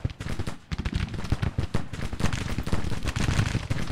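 Musket fire crackles in a Civil War battle in the Grand Tactician video game: dense, overlapping volleys of sharp shots pop continuously and loudly, with only a brief lull near the start.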